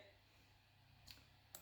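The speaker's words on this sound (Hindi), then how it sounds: "कंटिन्यू पे क्लिक करके" Two sharp, faint computer mouse clicks sound over a quiet room hiss while selecting a Continue button in an ad setup screen, one near the middle and one at the end.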